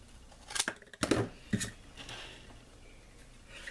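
Scissors snip through paper for a paper rifle model craft, a few quick crisp cuts close by in the first second and a half, then quiet.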